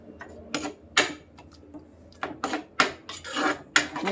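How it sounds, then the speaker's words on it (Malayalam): A spoon stirs and mixes a dish of ground coconut, bird's eye chili and shallots in a pot, making a series of close, irregular clinks and scrapes against the metal with no talk. "നന്നായിട്ടൊന്ന് ഇളക്കി യോജിപ്പിച്ച്"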